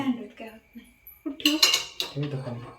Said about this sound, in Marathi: दुधावर झाकण ठेवते